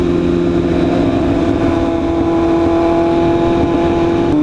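A BMW S1000RR and a Ducati Streetfighter V4S under hard acceleration give a loud, sustained engine drone with strong steady tones and a constant roar, close and unbroken.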